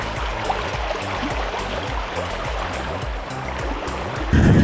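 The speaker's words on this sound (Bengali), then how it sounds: "মূলত মেঘালয়ের ঝর্ণার পানিগুলো এদিক দিয়ে প্রবাহিত হচ্ছে" Meghalaya waterfall water streams over white stones in a constant rushing flow, with a low rhythmic thumping beneath it and a brief louder burst at the very end.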